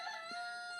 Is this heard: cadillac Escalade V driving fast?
no